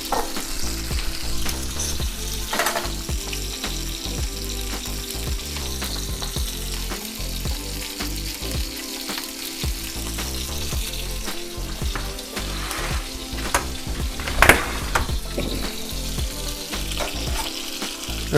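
Salmon pan-searing in a frying pan, a steady dense sizzle and crackle running the whole time at moderate level, close by, with a few brief sharper pops and no talking.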